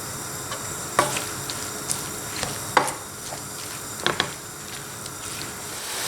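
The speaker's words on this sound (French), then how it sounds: "Et je laisse tout ça revenir jusqu'à ce que les légumes soient translucides pendant une bonne dizaine de minutes à feu moyen en mélangeant régulièrement" Vegetables sizzle in a pan over medium heat, a soft steady crackle broken by scattered clinks and scrapes of a spoon stirring, close up, with no voices.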